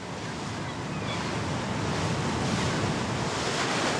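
Sea waves wash around a motorboat circling the island of La Gomera, making a steady, close rush of water and wind noise that holds at an even level throughout, with no voices.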